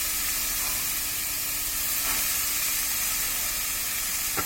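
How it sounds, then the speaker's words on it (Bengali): Chopped cabbage goes into a hot pan with spices and sets off a continuous sizzling hiss, close and steady, with a faint stir or clink and no voices. "এখন আমাদের কেটে রাখা যে বাঁধাকপিটা আছে সেটা এর মধ্যে দিয়ে দিব।"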